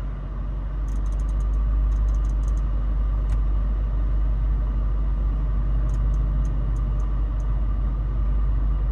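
A 2020 Mercedes-Benz AMG G 63 idles steadily, a smooth low rumble heard from close by with faint clicks over it and no talking.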